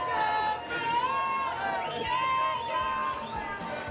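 Arena crowd at a Players Championship Finals darts match, a steady murmur of chatter and cheering spread through the hall, continuous and fairly loud with a few whistles rising above the hubbub.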